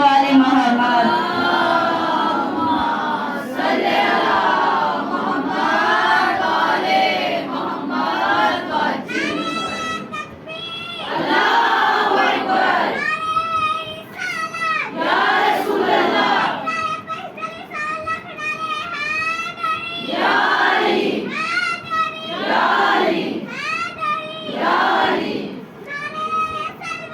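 A congregation at a Shia majlis recites salawat aloud together, many voices chanting in loud, rhythmic unison waves that fill the room.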